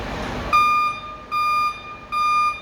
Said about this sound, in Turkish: Geri vites lambası ve alarm çalışıyor.